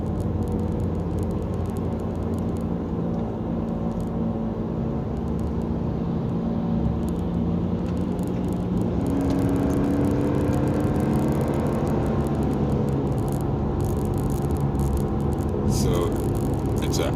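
A Subaru car's constant whirling hum, tied to speed and rising as the car goes faster, sits steadily inside the cabin under a continuous road and engine drone.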